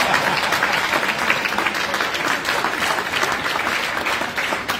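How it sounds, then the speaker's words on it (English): Loud, dense audience applause fills a conference hall at a high-table event with Sierra Leone's First Lady, sustained and steady throughout without letting up. "I need a very loud applause"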